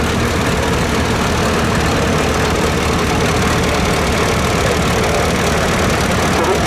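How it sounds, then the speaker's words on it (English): A 1970 Cub Cadet Model 127 garden tractor engine runs steadily at a parade during a threshing show in Edgerton, Wisconsin, a loud, continuous close rumble with no speech. "Next we have William Austin on his tractor. This is a 1970 Cub Cadet Model 127."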